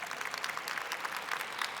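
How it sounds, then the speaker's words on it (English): Steady applause from a conference audience at a psychology plenary session, dense clapping filling the whole moment at moderate volume with no voices on top. "let's have a round of applause for Aaron Halperin for coming"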